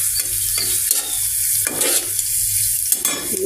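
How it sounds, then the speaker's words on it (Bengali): Malabar spinach greens frying in a little oil with onion, garlic and green chilli, a steady close sizzle with bursts of stirring and scraping in the pan. "এটা একটু সামান্য তেলে ভেজে এখন শাক দিয়ে দিলাম"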